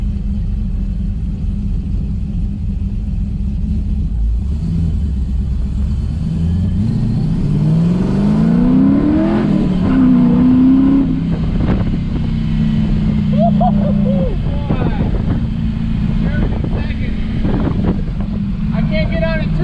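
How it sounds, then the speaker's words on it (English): A 3rd gen Camaro with a brand new LS3 engine and a 600 lift cam drives along, its loud, close exhaust burbling at a lumpy idle and then revving up in a rising sweep, with someone talking over it. "I can't get on it too much, man, but it's a brand new engine."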